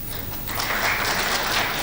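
Applause from a crowd at a county political gathering, a brief steady patter of clapping that swells slightly and holds with no talk over it.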